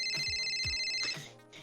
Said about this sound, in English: Liz, your phone rings.